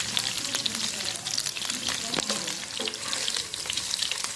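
Paneer pieces sizzle lightly in hot oil in a pan over a low-medium gas flame, with a steady close crackle and occasional sharper pops throughout.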